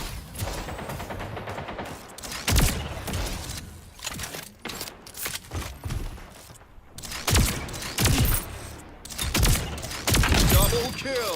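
Gunfire in the video game Splitgate 2, a run of sharp, punchy shots fired in quick bursts with short pauses, loud and close, mixed with clanks and impacts.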